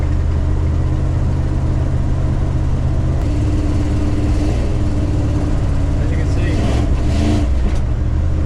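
A loud, throaty 5.9 Magnum V8 in a Dodge D150 pickup with Holley EFI idles, then rises with throttle blips, a deep rumble building and swelling over several seconds.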